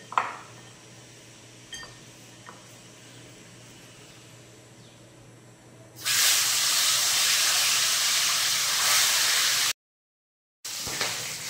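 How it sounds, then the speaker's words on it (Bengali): A big fish head from a six-kilogram fish hits hot white oil in a wok and erupts into a loud, steady frying hiss after several seconds of quiet kitchen noise, cutting out briefly before the sizzle resumes. "আমি কড়াতে সাদা তেল দিয়ে দিয়েছি, তেলটা গরম হয়েছে। এবারে মাছের মাথাটা দিয়ে দেব।"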